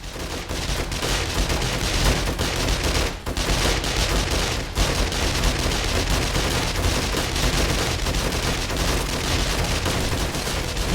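Automatic turret gunfire in 7 Days to Die during a horde night, a relentless dense barrage of rapid shots, loud and close, with brief dips before the firing resumes.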